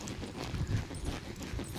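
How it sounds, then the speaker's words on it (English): A horse's hooves thudding on arena ground as it circles a barrel during barrel racing practice, a steady muffled clip-clop under a constant, noisy background. "I'm gonna ask this horse to come around this barrel."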